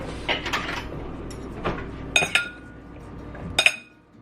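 Vegetables tossed with tamari and balsamic vinegar in a bowl, giving a few soft clinks and light clatters of utensils against dishware, close and intermittent with quiet gaps.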